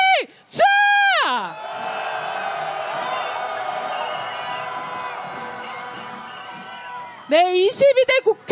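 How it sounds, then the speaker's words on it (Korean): A rally crowd roars and shouts for impeachment, a sustained mass of voices lasting several seconds, framed at start and end by a loud amplified voice leading the chant. "국회를 향한 탄핵의 함성"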